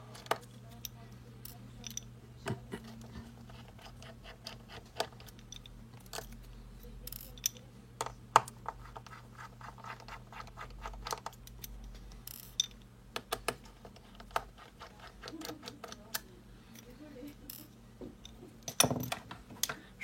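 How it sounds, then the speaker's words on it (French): Small screws come out of a Huawei P Smart motherboard with faint, scattered metallic clicks and ticks from a tiny screwdriver, close and quiet over a low steady hum. "Je dévisse toutes les vis qui se trouvent sur la carte mère."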